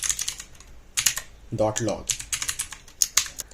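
Quick, uneven keystrokes clatter on a computer keyboard while code is typed, with a short stretch of talking partway through.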